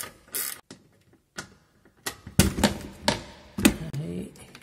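Screws are worked loose from a cover on an Opel Vectra C with a hand tool: sharp metallic clicks and ratcheting taps in uneven bursts, close and fairly quiet.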